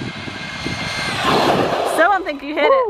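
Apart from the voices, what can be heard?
Arrma Typhon RC buggy brushless motor at full throttle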